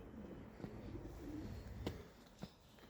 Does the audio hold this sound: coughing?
no